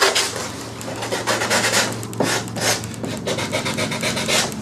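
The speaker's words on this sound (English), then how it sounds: "Just sand these edges up a little bit." Someone sands the wooden edges of a hatch by hand in repeated close, raspy back-and-forth strokes, steady and fairly loud with no talking.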